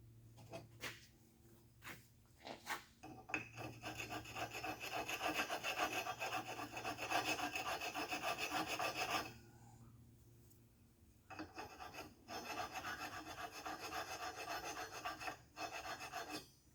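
A file rasps against a Chevy 283 crankshaft, knocking down a high spot, in a run of short strokes that becomes sustained scraping, with brief pauses between passes, close and fairly quiet.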